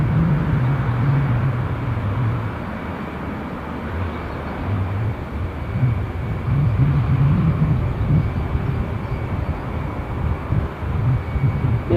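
A SunExpress airliner lines up at Düsseldorf airport, heard from a distance as a steady low jet engine rumble with a broad roar that swells and fades slightly throughout.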